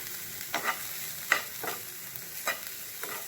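Masala with turmeric, salt and green chili frying in a pan for masala dosa filling, heard as soft sizzling with a few distinct stirring scrapes spaced about a second apart, no talk.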